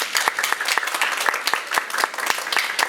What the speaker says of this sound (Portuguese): a gente uma salva de palmas para a Renata.